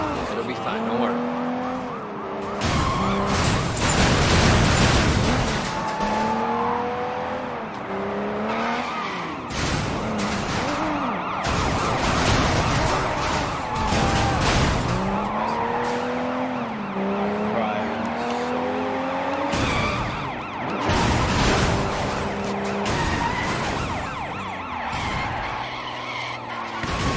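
Police sirens wail and sweep in repeated rising tones during a car chase in the Sleeping Dogs video game. Tires skid and engines roar beneath them, with voices talking over the chase.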